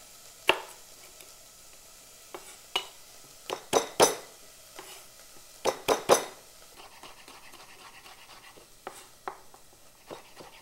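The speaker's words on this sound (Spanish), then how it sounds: "Vamos a picar el ajo." A knife chops garlic on a board in scattered, irregular taps, a few quick clusters of sharper knocks and clinks among quieter chops, close by with no voices.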